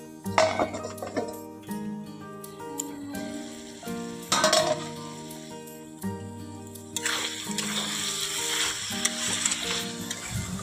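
Prawns frying in a pan for chingri do piyaji give a continuous sizzle with occasional clinks of a utensil stirring against the pan, growing louder and denser near the end; tonal music runs underneath throughout.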